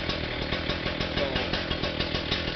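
A chainsaw engine idles steadily after carburetor adjustment, a loud close buzzing putter with a fast even pulse and no talking over it.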